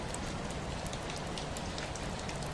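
Steady rain patters on surfaces, dense and constant, with scattered sharper drops over a continuous hiss and no voices.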